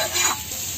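Butter sizzling in a pan while cooking tandoori chicken on the stovetop, a short, close, steady hiss with a slight swell at the start.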